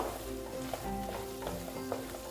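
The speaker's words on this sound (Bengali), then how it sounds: "এটা আমার প্রায় কষানো হয়ে গেছে এখন তেলও ছেড়ে দিয়েছে" Masala sautés in oil for a paneer dish, giving a steady, close sizzle with soft crackles and occasional faint stirring scrapes, alone without talk.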